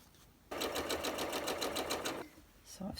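A sewing machine stitches quilt block triangles in one close, steady burst of fast rhythmic whirring lasting under two seconds, then stops, with a brief restart at the end.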